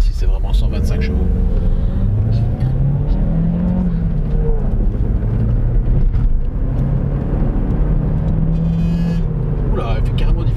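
An Opel Astra 1.4 Turbo petrol car rated at 125 horsepower accelerates from inside the cabin, its engine drone rising and falling through gear changes over ten seconds, loud and continuous, with someone talking at moments.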